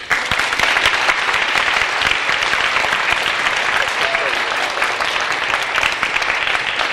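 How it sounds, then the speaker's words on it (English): Dense, sustained applause from a large audience at a college graduation ceremony, loud and even throughout with no pauses. "Give yourselves a round of applause."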